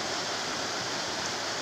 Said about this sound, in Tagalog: Napakasarap pong maligo sa ilog na ito.